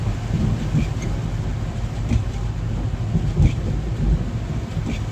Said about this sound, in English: The thunder seems coming from the east coast as it was coming from the west prior.